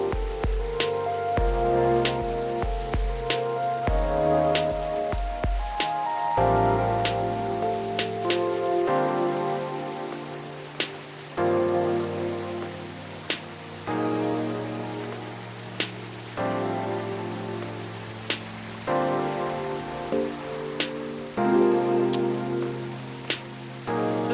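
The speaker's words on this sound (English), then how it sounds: "we're just here to enjoy the rainy weather of Seattle" Rain pours steadily in the Seattle setting of the game Coffee Talk, a constant patter laid under a soft piano-like melody with gentle chimes.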